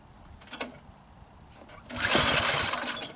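A snow blower engine is yanked by its pull cord, a couple of quick rasping pulls, then it catches and sputters into a rough, fuel-starved running noise at close range.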